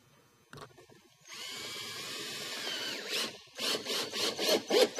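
A power drill whines steadily for a couple of seconds, then drives screws into the nose of roof ridge panels in a series of short, loud revving bursts, close by.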